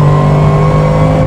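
A Bentley race car's engine roars steadily from onboard during a lap on a damp circuit, loud and close, with a sustained droning hum that holds constant without any talking.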